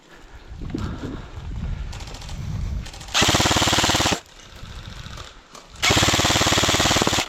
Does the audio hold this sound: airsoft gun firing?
yes